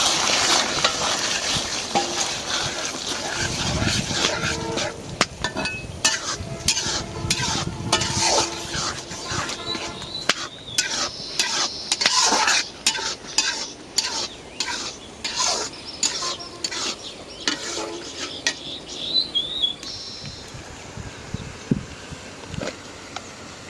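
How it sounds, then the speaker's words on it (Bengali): Rohu fish roe frying in plenty of oil in a pan, stirred steadily with a spatula; a continuous close sizzle runs throughout, with repeated scraping strokes growing sharper and more rhythmic in the second half. No talking. "মাছের ডিম ভাজতে অনেক তেল লাগে।"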